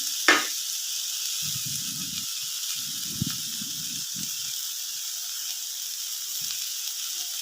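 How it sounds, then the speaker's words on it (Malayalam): Chopped green chillies sizzle faintly in a pan, a steady soft hiss with a sharp clatter near the start and a few short bursts of stirring. "മൂന്ന് പച്ചമുളക് ചെറുതായിട്ട് കട്ട് ചെയ്തെടുത്ത് അതും കൂടെ ചേർത്ത് കൊടുക്കാം"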